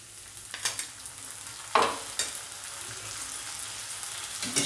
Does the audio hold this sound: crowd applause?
no